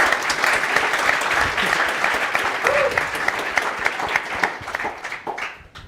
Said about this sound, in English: Can we please have an applause for these four amazing women?